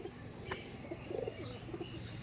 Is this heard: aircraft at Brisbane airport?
no